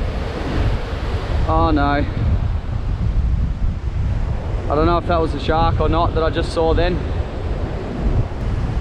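Ocean surf pounding at the foot of high sea cliffs, a steady loud rush of breaking waves and wind buffeting the microphone throughout, with someone talking over it in short bursts.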